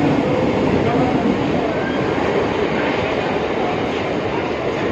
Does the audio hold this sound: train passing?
yes